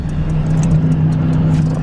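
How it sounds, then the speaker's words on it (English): A Nissan 350Z engine idles steadily nearby, a constant low hum with a strong droning tone and no revving, alone without talk. "I should probably turn off the car though."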